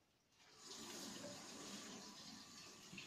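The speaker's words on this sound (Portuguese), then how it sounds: "Aqui as torneiras só com água muito quentinha, porque a água está a sair muito, muito fria." Water pours steadily from a kitchen tap, a soft continuous hissing rush that swells in after a quiet start and holds evenly, with no talking.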